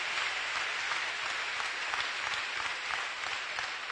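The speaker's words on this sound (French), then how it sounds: "Acclame Jésus." A congregation at a Wednesday-evening prayer service clapping together, a steady dense wash of applause, moderately distant and even throughout.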